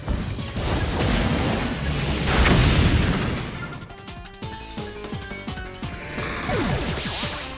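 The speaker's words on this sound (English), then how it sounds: "Shoot out another pyro ball." Pyro Ball strikes in Pokemon Sword during a gym battle against Klara, a rolling fiery whoosh swelling into a loud crashing burst, then ringing, shimmering game effects as the blast fades.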